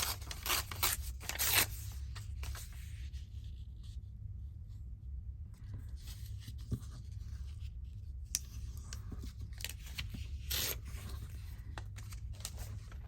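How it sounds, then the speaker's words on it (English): Sticky paper being torn by hand for a Christmas bag craft, with a few sharp ripping strokes early on and then softer scraping and rustling over a steady low hum. "So, I'm going to hand tear it."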